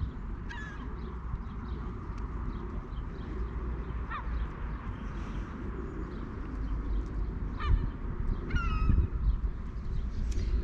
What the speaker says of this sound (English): Oh, ducks have landed. Pair of ducks.